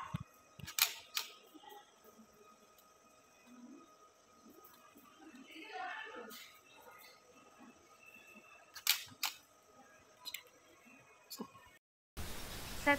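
A DSLR camera shutter fires in several sharp, close clicks spread across the stretch, with brief handling noises between them in a quiet room and a burst of noise at the very end.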